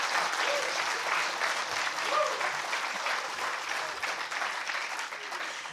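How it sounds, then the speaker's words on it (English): An audience applauds the Overwatch 2 champions at the British Esports Student Champs grand finals, sustained dense clapping that stays loud and even, then tapers slightly toward the end. "one last round of applause again for Odyssey EXE, your British Esports 24 champions in Overwatch 2"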